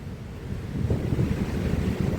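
A strongly flowing river near Barichara and San Gil, Colombia, rushes as a dense, continuous roar with some wind buffeting on the microphone, loud and steady without talk.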